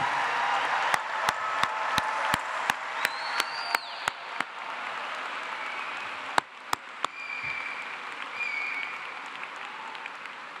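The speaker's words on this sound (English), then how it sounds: "About another loud round of applause for our newest master's degree recipients." An audience at a Clemson University summer commencement claps for new master's degree recipients, a steady wash of applause from a large hall with sharper individual claps cutting through, gradually thinning toward the end.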